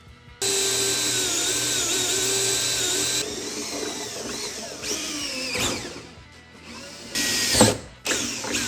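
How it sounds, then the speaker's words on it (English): A power drill whines at high speed close by, drilling holes for a tour pack on a 2024 Harley-Davidson Road Glide, pitch shifting as it bites in, then stops and restarts in short bursts. "I'm gonna go ahead and drill the first one and then make sure that everything's lining up good"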